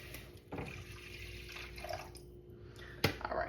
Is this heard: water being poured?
yes